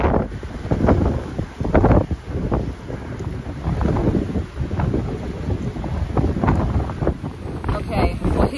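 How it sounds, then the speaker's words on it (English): Strong wind at Cape Reinga, New Zealand, on a coastal trail buffets the microphone with loud, continuous rumbling gusts that swell and ease throughout, while muffled voices come and go underneath. "very, very windy, but at least the rain's holding off"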